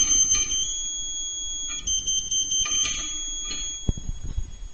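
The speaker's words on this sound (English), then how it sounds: "Be careful that you always hear the continuous tone." Satellite antenna pointing meter for a Ka-Sat internet dish installation emitting a steady high-pitched continuous tone, with brief interruptions and a few clicks from the mounting hardware near the end.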